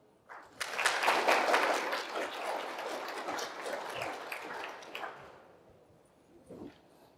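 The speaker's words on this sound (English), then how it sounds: "Once again, another round of applause for Doctor." A conference audience gives a round of applause after a presentation: a burst of many hands clapping at moderate distance that swells quickly, holds for several seconds and then tapers away into quiet.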